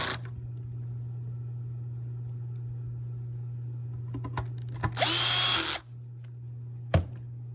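A power screwdriver drives screws back into the circuit board of a Perfect Draft BBQ blower, a steady close hum of the tool followed by a louder whirring burst and a brief final zip, with no talk.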